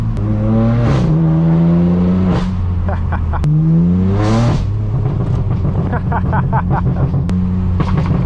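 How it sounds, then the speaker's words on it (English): A straight-piped BMW M4 F82 engine roars and shifts through gears on a night canyon drive, pitch sweeping up repeatedly, with rapid chatter of tires fighting for traction under the revving. "I'm sure you can just hear those tires just fighting for that traction"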